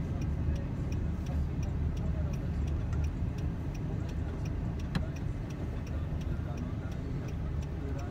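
A car's left-turn signal ticks in a steady, regular rhythm inside the cabin, the clicks sitting over a continuous engine and road rumble.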